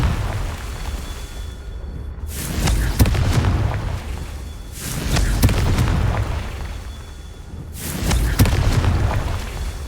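Confringo blasting spells from Hogwarts Legacy burst in three heavy booming explosions, each swelling and rumbling for a couple of seconds before fading, spaced evenly and loud against a quiet game background.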